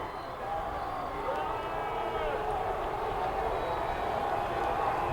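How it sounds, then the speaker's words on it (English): Dense, steady roar of a large crowd at the 2004 Boston Red Sox World Series victory parade in Copley Square, Boston, a continuous wash of cheering and voices with no breaks. "The crowd is deafening out here in Copley Square."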